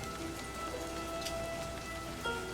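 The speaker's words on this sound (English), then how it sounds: "No more standing in the rain." Steady rain patters on surfaces in the Livber video game, a continuous soft hiss with no voices.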